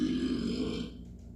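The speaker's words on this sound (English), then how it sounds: "This is a burp." A single deep, rumbling burp sounds up close and alone, loud and sustained for most of a second before trailing off into quiet.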